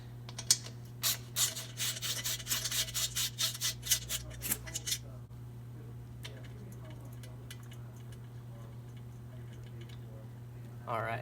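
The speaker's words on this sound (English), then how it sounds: "We're going to take those bolts out first. So grab your 8 millimeter" An 8 mm wrench loosens skid plate bolts on a 2018 Husqvarna TX 300 dirt bike, giving a burst of quick metallic ratcheting clicks up close, then quieter scraping and handling sounds over a steady background hum.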